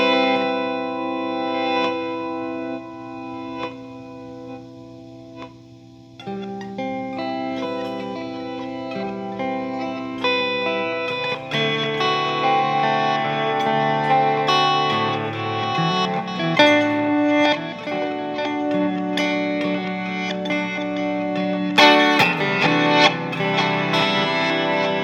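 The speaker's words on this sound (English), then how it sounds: "Flashback is on. I'm going to add reverb so you can see how it works." Electric guitar played through a TC Electronic Flashback delay pedal with added reverb, sustained chords and picked notes trailing into repeating echoes and a wide wash, loud and continuous throughout with no talking.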